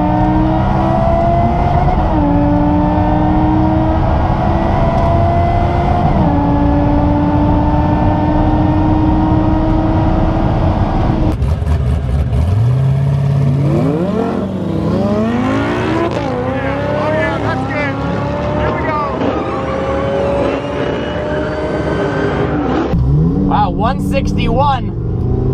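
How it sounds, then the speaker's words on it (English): A Lamborghini at full throttle on a half-mile run roars loudly through rising gears with sharp shifts, then pulls hard and high up to the rev limiter, with a voice briefly over the engine. "about to run the half mile. I'm not gonna do launch control. I'm just gonna pin it."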